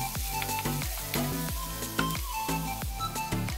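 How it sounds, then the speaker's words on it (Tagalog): Chopped onion, garlic and ginger sizzle in hot oil, a constant hiss under regular, evenly spaced knocks and taps that repeat several times a second, close and fairly quiet. "Kapag mainit na ang mantika, ilalagay na natin ang tinadtad na sibuyas,"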